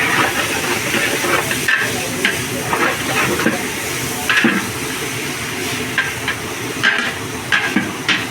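A large batch of onions, coriander, mint and green chillies frying in oil, a loud continuous sizzle and steamy hiss broken by repeated metallic spoon scrapes and clanks against the pot.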